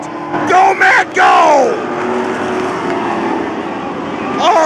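Pure stock race cars roar around the dirt oval at Placerville Speedway, loud engines rising and falling as cars pass close by, with a crowd and an excited announcer's voice mixed in.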